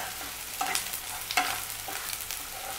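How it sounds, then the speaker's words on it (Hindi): Onions frying in a pan while being stirred to keep them from burning, a close crackling sizzle with a couple of distinct spatula scrapes, no talking. "एक जगह से चलाते रहिए, नहीं तो ये प्याज जल जाएंगे"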